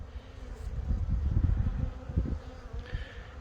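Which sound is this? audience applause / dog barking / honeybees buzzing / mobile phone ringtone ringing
honeybees buzzing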